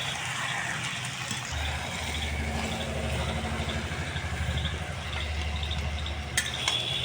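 Cabbage curry with fish head in a pan being stirred before coming off the heat, a soft sizzle with scraping stir strokes over a low steady hum, a sharp clink near the end.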